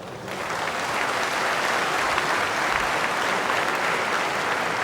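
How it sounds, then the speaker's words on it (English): Audience at the National Day Rally 2008 bursting into loud, sustained applause with cheering mixed in, a dense steady roar of clapping from a large hall that holds level for several seconds. "I see the women are cheering."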